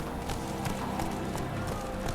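Horse hooves clip-clop in a quick, even galloping rhythm in The Witcher 3, a steady, moderately loud run with a soft game soundscape behind it.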